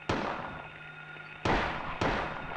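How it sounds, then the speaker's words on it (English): In the game Silent Hill, Harry fires a gun at a bug: three sharp, loud reports, the first alone and the last two close together, each with a short decaying ring. "Now you're shooting at the bug."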